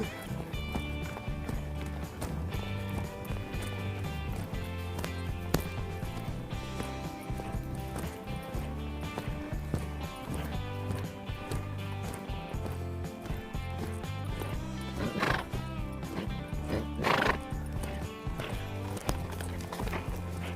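A horse lopes during a riding session, its hoofbeats a steady, rhythmic clip-clop throughout, moderately close, over continuous background tones.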